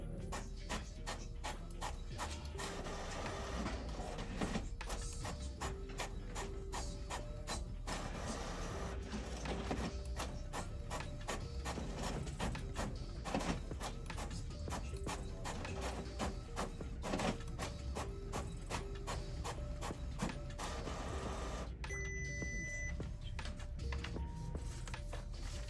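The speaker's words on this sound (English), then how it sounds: "see the actual speed of this printer on plain A4 paper." An Epson WorkForce Pro WF-C5890 pigment inkjet printer runs a job on plain A4 paper, giving a steady, dense mechanical drone with a rapid run of clicks and pulses, loud and continuous, with no voices.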